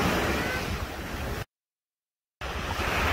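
Rough sea waves roll onto the Cyprus coast in a continuous, noisy wash with wind rumbling into the microphone, broken by a short gap of complete silence midway.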